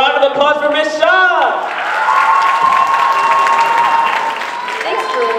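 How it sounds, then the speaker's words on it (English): Audience at a school talk-show event breaks into applause and cheering for a guest, with whoops and shouts riding over steady clapping and some voices throughout. "Get a round of applause for Miss Shaw!"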